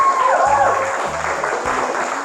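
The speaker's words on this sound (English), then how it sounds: "how about a round of applause for all of our seniors?" Audience applause for graduating seniors at a high school band concert, a steady wash of clapping filling the whole stretch, with a voice briefly audible early on.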